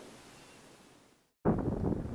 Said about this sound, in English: And pretty windy.